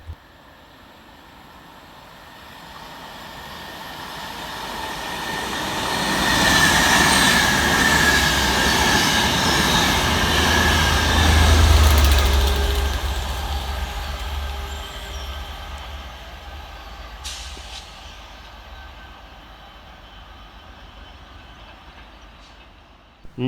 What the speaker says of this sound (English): Pushing stock HD01 for Transport for Wales is 67013, working 1 Whiskey 13 from Cardiff Central through to Manchester Piccadilly